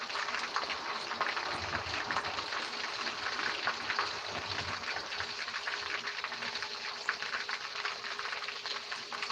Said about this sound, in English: frying things you can't leave unattended